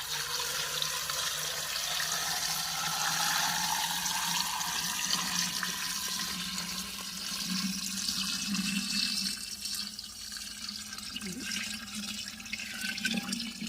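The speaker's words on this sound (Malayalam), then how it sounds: "തിളച്ച വെള്ളം ആറിയത് ഇത് നല്ല തണുക്കണം കേട്ടോ. എന്നിട്ട് ഇതിലേക്ക് ഒഴിച്ചു കൊടുക്കണം." Cooled boiled water poured steadily into a jar of preserved mangoes, a continuous close gushing and gurgling stream that runs for several seconds and eases slightly toward the end, with no talk.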